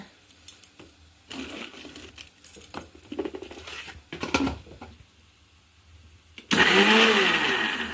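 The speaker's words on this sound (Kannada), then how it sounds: "ಸ್ವಲ್ಪ ಮಿಕ್ಸಿ ಮಾಡಾಕ್ತೀನಿ" A kitchen mixer grinder working on grated raw mango with coarse rock salt: scattered light tapping and clattering sounds come first, then the motor starts abruptly and runs with a loud, steady whirring grind to the end.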